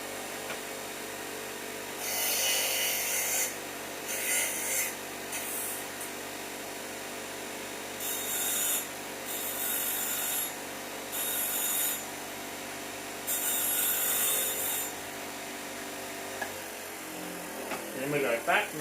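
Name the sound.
bench grinder lightly tapering lock pins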